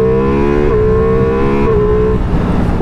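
A Ducati Multistrada V4 Rally motorcycle pulls hard under acceleration, its engine note climbing steadily and dropping abruptly at each quick-shifter upshift, two crisp shifts in a loud, close, continuous run with no talking.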